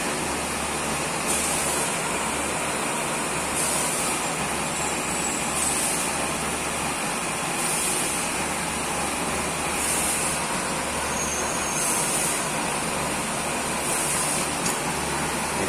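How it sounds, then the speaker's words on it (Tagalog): Water splashing and pouring down the sides of a used oil stove fitted with a flat bar ring as a semi-splashproof guard, a loud continuous rushing wash with faint rhythmic pulses, no talking. "Yan, nagbabagsakan na yung mga tubig sa gilid."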